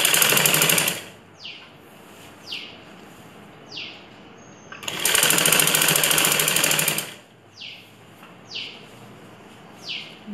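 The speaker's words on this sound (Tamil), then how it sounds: "இப்போ தையல் போட ஆரம்பிச்சிடும்." A sewing machine stitches a ladies' blouse in two loud whirring bursts separated by a pause, with small birds chirping repeatedly nearby in between.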